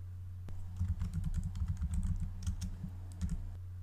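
A name typed on a computer keyboard, a quiet close run of rapid key clicks over a steady low electrical hum, with no talk.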